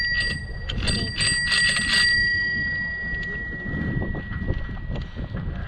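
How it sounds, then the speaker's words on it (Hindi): A bicycle bell rings several times in quick succession, bright and close, over rustling wind noise and faint rolling sounds. "बजाओ घंटी, बजाओ"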